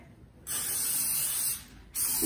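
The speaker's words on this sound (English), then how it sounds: "So we're gonna do a little spray oil spray here." Cooking oil is sprayed onto a waffle iron in two hissing bursts, a long one followed by a brief second, close and sharp over a quiet kitchen.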